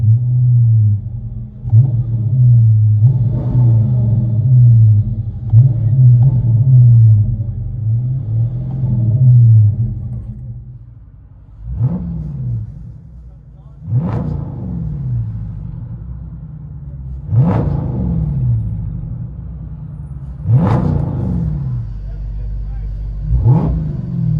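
Dodge Charger with a HEMI V8 heard from inside the cabin: a steady low idle rumble, then a series of sharp revs climbing and falling back, each one loud and close, with brief voices under the engine.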